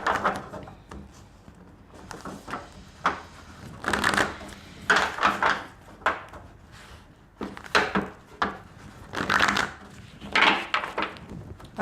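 Holographic Mandala tarot cards being shuffled in repeated bursts of riffling and soft slapping, close up, with brief pauses between handfuls and no talking.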